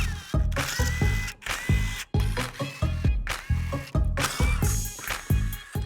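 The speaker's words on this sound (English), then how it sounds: "Now we got to remove screws. They're 7mm screws all along the front edge of the bumper here." Power tool driving out 7mm screws along the front edge of a 2014-2019 Cadillac CTS bumper, in repeated short whirring bursts with pauses between, close and loud.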